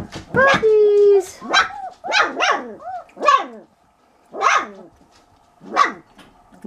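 A person imitates a dog, with a string of vocal barks and growls in short bursts, close and loud, with pauses between them.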